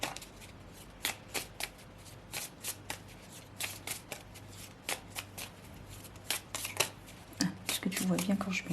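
A deck of cards is shuffled by hand in repeated quick riffles and snaps, close and crisp, while someone speaks softly throughout.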